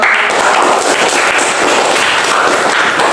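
An audience in a classroom applauds after a group's student-teacher presentation at IAIN Pontianak, a dense, steady crackle of many hands clapping close by, sustained at even loudness for the whole span.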